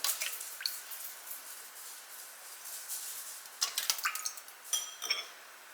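Liquid, vinegar mixed with vegetable oil, trickles and clinks in a container, with scattered drips and light clinks of a utensil, close and fairly quiet, and no talking.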